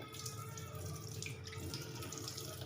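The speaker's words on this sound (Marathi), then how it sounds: "पाण्याखाली दोन तीन वेळा धुवायचं" Skinless chicken is rinsed under a running kitchen tap, a steady, fairly quiet stream of water splashing and trickling into a sink.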